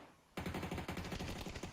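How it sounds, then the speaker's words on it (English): Rapid automatic gunfire bursts out suddenly in PUBG during a Master Series grand finals match, a loud, fast rattle of shots lasting over a second. "Takes some gunfire through the windows here"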